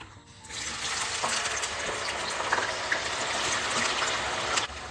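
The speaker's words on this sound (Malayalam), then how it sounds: "ഒരു മൂന്ന് തവണ വേറെ വെള്ളത്തിൽ കഴുകി ഊറ്റി വെക്കണം" Raw banana slices rinsed in water for sharkara varatti, a steady close splashing and sloshing rush with a few brief clinks, continuous and loud throughout.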